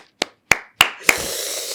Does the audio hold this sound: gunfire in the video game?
no